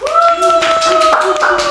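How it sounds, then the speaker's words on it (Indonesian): An audience at a Balinese community event claps for a provincial coordinator, a short burst of hand claps beneath a sustained tonal background. "Tepuk tangan dulu dong."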